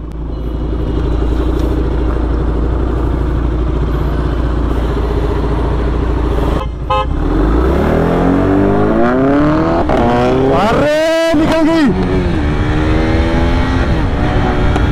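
Supercar engine revving hard at the start of a street race against a KTM motorcycle: a loud, close, sustained roar that climbs in pitch through repeated revs and shifts, with a brief drop partway through.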